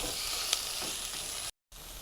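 Chopped onion and small tomato pieces sizzle in a pan for a Middle Eastern marghoog dish, a steady close frying hiss with a brief stir, cut off by a short gap of silence near the end.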